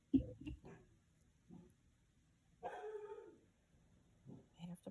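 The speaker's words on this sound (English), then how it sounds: "have to pause if my dogs don't stop" Dogs barking indoors in short, sharp bursts, one near yelp at the start and a longer bark in the middle, faint between outbursts, with someone talking softly.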